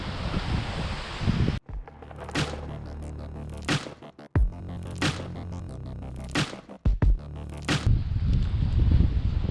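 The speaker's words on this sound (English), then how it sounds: "the wind is blowing really hard" Strong wind blowing hard outdoors by the Potomac River, roaring gusts buffeting the microphone with sharp bursts and brief lulls, loud and close.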